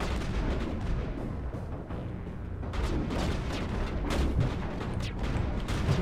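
Dense, continuous gunfire and booming blasts from a Mass Effect Andromeda video game battle, loud and sustained throughout with overlapping shots and explosions.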